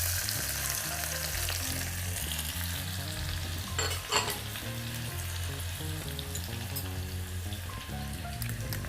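Onions frying in oil with bay leaf, cloves, cinnamon and black cardamom for rajma, a dense close sizzle crackling on continuously, with a brief stir partway through and no talk.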